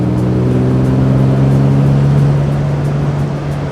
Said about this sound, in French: écoutez-moi le chant du 6 cylindres XK